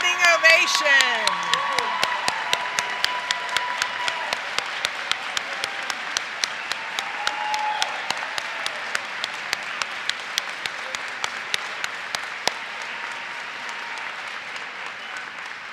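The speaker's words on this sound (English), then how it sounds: "Let's give all these graduates a big round of applause." Graduates at the 2022 Ohio University Zanesville recognition ceremony receive sustained applause from the audience, with cheers and whoops early on as the clapping settles into a long, steady round that stays fairly even throughout.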